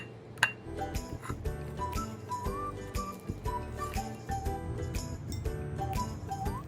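Tuna fish, mashed potatoes and other ingredients are stirred in a bowl, with the utensil clinking and scraping against the dish in an irregular rhythm of bright taps and rattles, close and fairly quiet.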